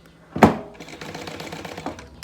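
A sewing machine stitches synthetic leather for a binder, starting with a sharp knock and settling into a fast, even mechanical chatter close to the microphone.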